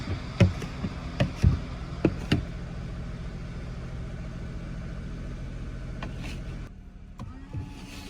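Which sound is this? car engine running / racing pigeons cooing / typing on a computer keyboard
car engine running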